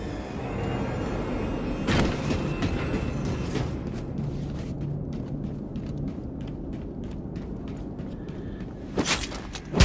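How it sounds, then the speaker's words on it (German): A rocket-powered train in the game Wolfenstein: The New Colossus rumbles in a steady, loud roar, with sharp bursts of hissing thrust near the start and again at the end. "Haben die jetzt etwa raketenbetriebene Züge?"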